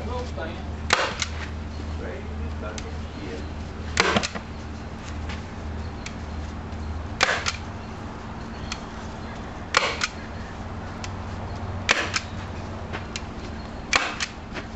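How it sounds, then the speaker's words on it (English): A staple gun fires into fabric stretched over a 14-foot jon boat, six sharp loud snaps spaced a few seconds apart over a low steady background hum. "Give this a good taut pull, and then hit it with a staple."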